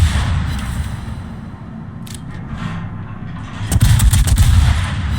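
Heavy cruiser broadside gunfire in a naval combat video game, a sustained rumbling roar of booming low-end blasts that swells louder near the end, with no talk over it.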